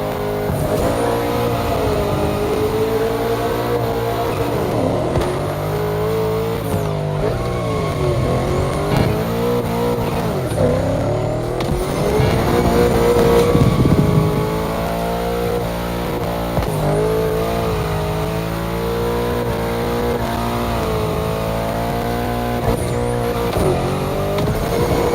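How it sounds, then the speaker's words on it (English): A car drifting in the racing video game The Crew Motorfest, its engine revving up and down continuously while the tires squeal through long sliding turns, loud and sustained with no talk. "That's a proper drift."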